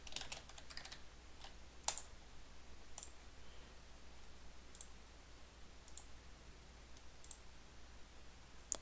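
Quick, faint clicks of typing on a computer keyboard while entering an instance name in Adobe Animate, scattered keystrokes in a quiet room with a few louder taps.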